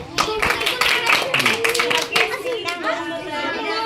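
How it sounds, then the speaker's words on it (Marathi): Schoolchildren at a class vote count clap in a burst of quick, uneven claps, mixed with chattering young voices and an adult talking, the clapping fading into talk toward the end. "टाळ्या वाजवा"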